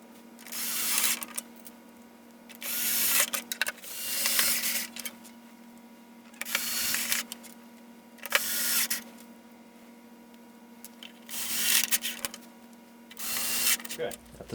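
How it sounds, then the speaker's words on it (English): Seven screws being driven back into a turbine filter, heard as repeated bursts of close, gritty whirring from a small powered driver, each lasting about a second, separated by quiet pauses. "Now you're going to need to screw the 7 screws right back in."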